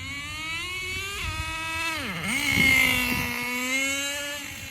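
A Traxxas 4Tec RC car with a warmed-up Pro .15 nitro engine screams steadily at high pitch, dipping sharply once mid-run before climbing back to a sustained buzzing whine, fairly close and alone.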